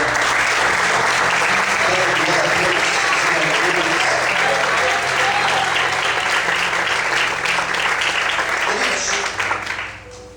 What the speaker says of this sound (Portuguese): Você pode desocupar sua mão, aplaudir o Senhor.